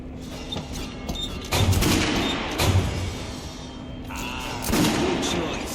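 Bursts of gunfire in Metro Last Light Redux, loud overlapping volleys and heavy thuds with shouting voices mixed in over a few seconds.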